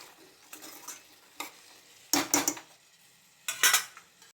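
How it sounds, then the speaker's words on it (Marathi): A metal lid is set onto a cooking pot of vegetables steaming for veg pulao, making a couple of short rattling clinks followed by a second clattering settle, close by with no voices. "चला आपण याला झाकण ठेवूया।"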